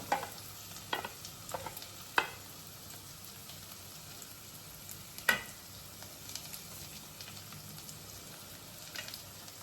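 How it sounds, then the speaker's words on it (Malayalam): Onion, shallots and garlic sautéing in a pan for a madura kizhangu (sweet yam) curry, a steady soft sizzle with a few sharp stirring scrapes and clicks, close and fairly quiet, no talking. "ഉള്ളി, സവാളയും വെളുത്തുള്ളിയും ഇട്ട് വഴറ്റുകയാണ്."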